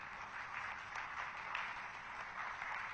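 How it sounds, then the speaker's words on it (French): A conference audience applauding steadily and continuously, a dense even patter of many hands at moderate distance with no voices over it. "Donc applaudissez-vous, n'hésitez pas."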